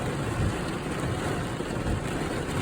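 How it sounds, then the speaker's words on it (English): Hail comes down on a freezing April day as a dense, steady hiss and patter that stays even throughout, with no voices. "That is hail coming down."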